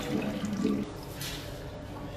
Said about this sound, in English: I want to flush, I have to do this.